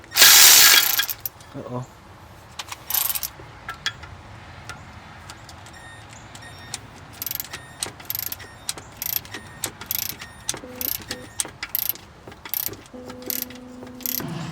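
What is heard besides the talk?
Milwaukee ratchet turning on a 1983 Chevy C10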